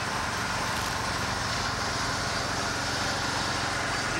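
The hydraulic engine of a TimberKing B-20 bandmill runs steadily at half throttle, a loud, even mechanical drone with a rough, rumbling low end and no changes in pitch.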